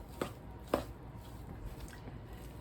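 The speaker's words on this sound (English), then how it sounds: "I'm just using my big fork." A big fork stirs homemade flat, chewy biscuit dough in a bowl, giving two crisp clacks near the start followed by faint scraping, close and quiet with no talking.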